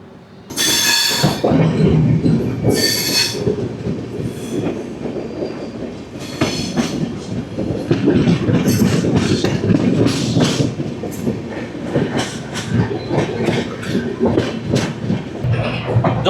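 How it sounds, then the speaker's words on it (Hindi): Shatabdi Express passenger train rolling just after leaving its stop at Muzaffarnagar on the Delhi to Dehradun route, with a steady loud rumble, rhythmic wheel clatter and brief high squeals early on, heard from inside a coach. "2 मिनट के हॉल्ट के बाद ये ट्रेन यहाँ से मुजफ्फरनगर से चल चुकी है।"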